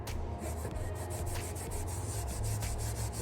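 Wet rag wiping excess filler off installed crown molding, heard as a continuous close rubbing swish with repeated back-and-forth strokes over a low steady hum.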